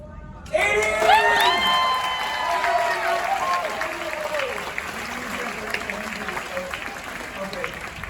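An audience breaks into applause after a magic trick on a Royal Caribbean cruise ship, a sudden burst of clapping with a few cheers and whoops that fades over several seconds, with voices mixed in.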